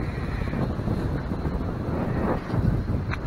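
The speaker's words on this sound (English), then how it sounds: "It's starting to get really windy." Strong wind blows steadily as a thunderstorm approaches over Lake Michigan at a deserted storage-building site in Gary, Indiana, a low rumbling roar buffeting the microphone with gusts swelling near the end.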